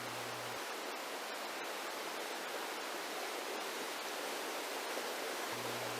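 Mountain stream in Seoraksan's Cheonbuldong valley rushing below sheer rock cliffs, a steady, dense broadband roar of water that holds evenly throughout with no voices.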